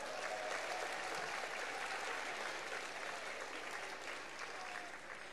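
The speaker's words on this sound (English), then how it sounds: "let's give him a round of applause for that" A concert audience at a school winter concert breaks into sustained applause, a steady, even roar of many hands clapping that fades slightly at the end, heard from within the hall.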